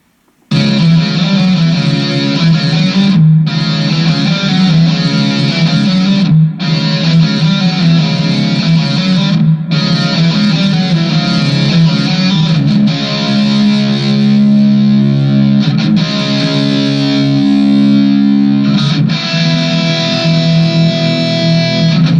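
Electric guitars play a chord progression, with a second accent guitar panned off to the right and a touch of reverb; sustained, distorted chords ring loudly and change every few seconds, with brief gaps between sections.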